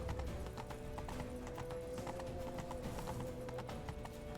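Horse hooves clip-clop steadily in The Witcher 3, a continuous run of close, even hoofbeats over a constant game backdrop with a faint whinny at times.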